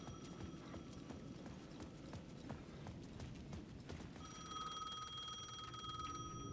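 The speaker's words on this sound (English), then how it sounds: "The payphone at the edge of the plaza was ringing again." A payphone at the edge of a plaza rings in the game Alan Wake 2, a steady electronic bell that grows louder near the end, over a busy background of rhythmic clopping footsteps and ambient noise.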